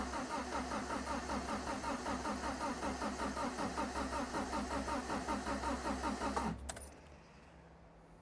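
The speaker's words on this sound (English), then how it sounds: "it's turning over slower than it's supposed to" An MG Midget engine cranks slowly on a weak battery, a rhythmic labouring churn of the starter that runs for several seconds, then stops abruptly and leaves near silence.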